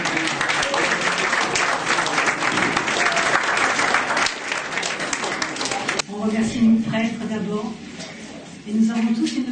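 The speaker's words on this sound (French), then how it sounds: "Je crois qu'on peut applaudir toute sa famille." A church congregation applauds a family during a 50th anniversary celebration of the Notre-Dame de la Paix church, with a full, steady burst of many hands that thins after about six seconds as a voice starts speaking.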